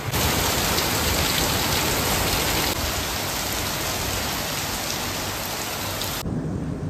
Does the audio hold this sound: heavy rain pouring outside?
yes